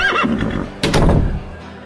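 A horse whinnies clearly and fairly loudly, a rising-and-falling neigh followed by a brighter burst and snorting breath, alone with no talk.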